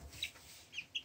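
Four-week-old chicks raised on a balcony give a few faint, high peeps: one around a quarter second in, then two more close together near the end, over quiet background.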